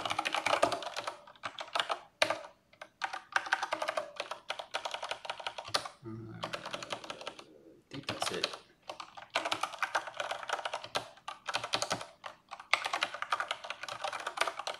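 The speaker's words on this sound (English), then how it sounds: "I also got this new keyboard that's like ergonomical, so it's like some spread out." Rapid typing on a spread-out ergonomic computer keyboard, a steady run of close, crisp key clicks with brief pauses, while a voice briefly murmurs.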